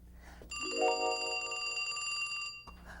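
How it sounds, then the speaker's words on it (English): A ringing bell alarm clock sounds for about two seconds, a bright sustained metallic ring that starts abruptly and cuts off, fairly close and alone. "Oh boy, my alarm clock is ringing."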